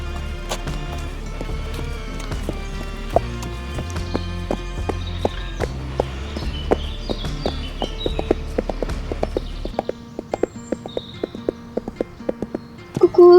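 Horse hooves clip-clopping in a steady walking rhythm, close and fairly loud, over a continuous low rumble of accompanying sound, with the hoofbeats becoming sharper and more isolated toward the end.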